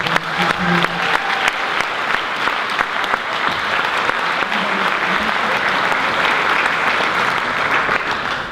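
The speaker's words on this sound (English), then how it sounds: "How about a round of applause?" A crowd applauds at a school awards night for the class of 2015, steady dense clapping sustained throughout at close range, with cheers and voices mixed in.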